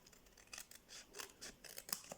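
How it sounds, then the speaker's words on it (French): Small scissors trim the edge of a paper card, giving a quick run of faint, close snips in an uneven rhythm with no talking. "On prend sa petite paire de ciseaux et on rectifie."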